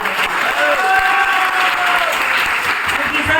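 Loud, steady applause from a business seminar audience fills the whole stretch, dense and continuous with a few thin whistle-like tones riding over it.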